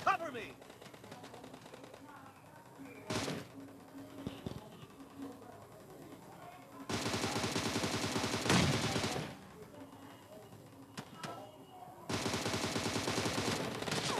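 Gunfire in the video game PUBG Mobile, heard as loud sustained bursts of automatic fire separated by a pause and a few single shots, with someone talking excitedly over the game noise.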